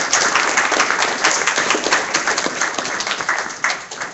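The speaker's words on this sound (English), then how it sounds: "Can we give them a round of applause?" A workshop audience breaks into sustained, dense applause, loud and even throughout with no voices standing out.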